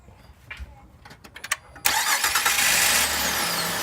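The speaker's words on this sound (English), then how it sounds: "I'm going to start the engine." A 2005 Acura MDX engine cranks and catches after a new starter is fitted, with a few clicks and scrapes first, then a sudden loud start settling into a steady close idle.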